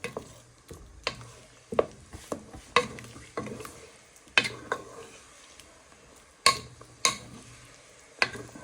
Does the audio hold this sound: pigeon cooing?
no